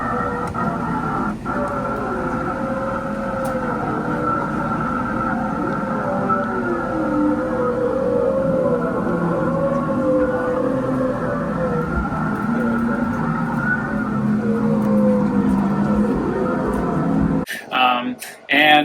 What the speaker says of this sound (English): you can hear the whales singing under the water